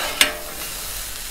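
Onion sizzles on a hot 36-inch Blackstone griddle as a steady hiss, with one brief sharp clatter near the start.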